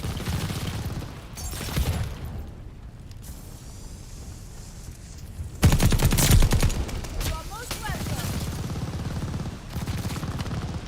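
Bren light machine gun fire in Call of Duty Vanguard comes as several bursts of rapid shots, the loudest burst near the middle. Explosions and game sounds surround the bursts, and the background is busy throughout.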